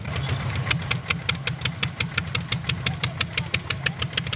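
Small modified, non-original dumper engines run close by at a dumper race with a rough, rhythmic knocking idle and sharp regular ticks, loud and steady throughout.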